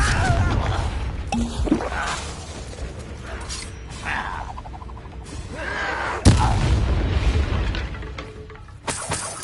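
Confringo blasting spells exploding in the Hogwarts Legacy game, heard as dense combat noise with rumbling blasts and shattering hits, one sharp loud impact standing out near the end of the fighting.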